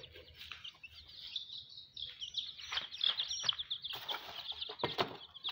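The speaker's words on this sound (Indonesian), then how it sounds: "Di sini ayam ini akan berkumpul berlebutan cari makanan tuh." Rainbow chickens cluck and chirp in a busy cluster as they gather to feed, with scattered pecking and scratching sounds close by, no talking.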